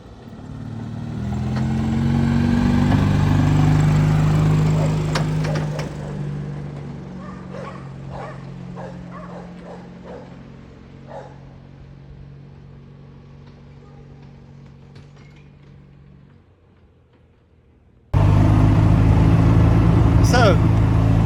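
A 2007 EZGO golf cart with a Subaru engine running, a low steady engine rumble that rises and then settles into idle, under someone talking, with a dog barking intermittently nearby.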